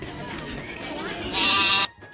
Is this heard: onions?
no